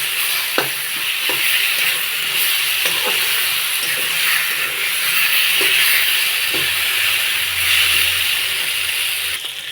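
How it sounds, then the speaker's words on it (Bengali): Cut potatoes frying with spices in a pan, a continuous close hissing sizzle with several scraping stirring strokes spaced irregularly throughout. "আলুটা একটু ভাজা ভাজা করেই নেব।"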